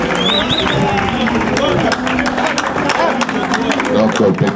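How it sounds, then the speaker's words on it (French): An audience at a youth awareness gathering claps and cheers together, the dense applause mixed with crowd murmur and voices over the whole moment. "comment on va vous applaudir quand même, hein."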